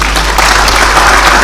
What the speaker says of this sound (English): I ask that you give them another round of applause